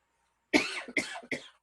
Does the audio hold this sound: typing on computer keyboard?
no